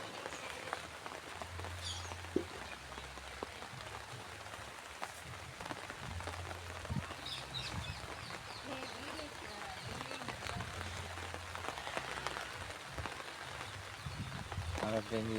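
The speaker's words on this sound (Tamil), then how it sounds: "மழை பெஞ்சிட்டு இருக்கு." Steady rain falls around a home garden with a banana plant, a constant soft patter with scattered drip sounds throughout. A faint low hum and brief noises sit underneath.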